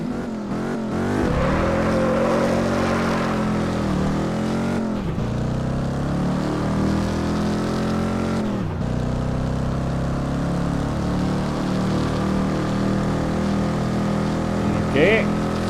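A 3-speed Mustang's engine roars steadily in Test Drive Unlimited 2, its pitch climbing and dropping through repeated rev sweeps and gear changes under a voice.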